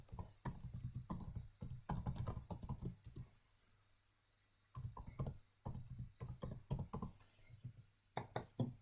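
An email address being typed on a computer keyboard: quiet, close clusters of quick key clicks come in bursts, with a pause of several seconds in the middle.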